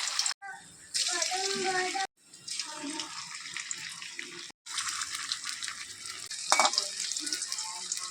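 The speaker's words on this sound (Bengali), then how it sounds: "এগুলো ধীরে ধীরে ভাজা হতে থাকবে।" Banana blossom chops fry in hot oil with a steady loud sizzle, broken by brief pauses and clinks of a utensil.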